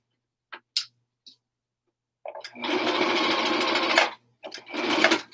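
A sewing machine stitches fabric seams for a helmet cover, with a few short taps, then a loud close steady whirring run of about two seconds, followed by another shorter burst.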